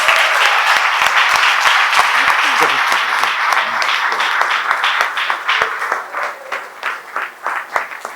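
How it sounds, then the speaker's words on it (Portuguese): A church congregation at a missionary conference bursts into loud, sustained applause with dense rapid clapping that thins into scattered claps toward the end. "levante comigo a mão direita junto com ela a esquerda e aplaude o nome do Senhor Jesus"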